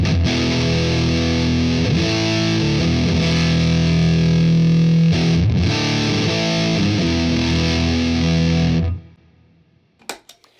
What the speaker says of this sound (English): First of all, we'll do it on the Big Muff.